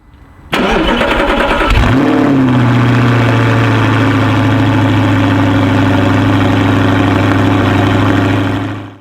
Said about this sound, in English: You always know when Will and Joe are going out for a drive because the cold start sounds like this